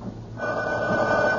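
A telephone bell rings in a radio drama bedroom scene, one steady ring rising clearly out of a quiet background with no talking.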